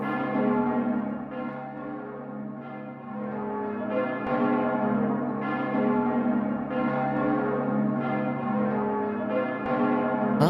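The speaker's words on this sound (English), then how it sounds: "Well, so that's the sound of pilgrims though." Steady tolling of the pilgrims' bell in Fate/Grand Order, heavy repeated strikes blending into a loud continuous peal with rich, lingering overtones.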